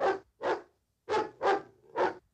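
A cartoon dog barks football signals in a 1944 animated football game: five sharp, loud barks in two groups, two then three, with short silent gaps between them.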